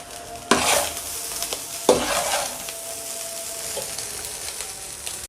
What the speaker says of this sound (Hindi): चलिए अच्छे से इसको मैं तेज़ फ्लेम पे पका ली, फ्राई कर ली